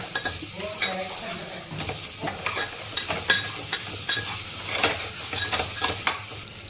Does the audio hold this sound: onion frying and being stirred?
yes